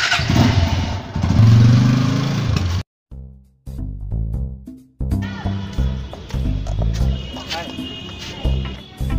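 A motorcycle starts with a loud, close engine roar that cuts off abruptly, followed by music with voices over it.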